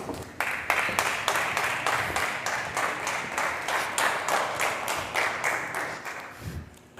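A talent-show audience greets a guest arriving on stage with brisk, evenly spaced applause that lands almost in unison, a steady run of sharp claps lasting several seconds before tapering off.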